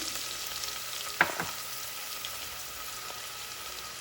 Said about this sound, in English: In the pot, we have 3 tablespoons of coconut oil under medium heat. We're gonna add our diced onion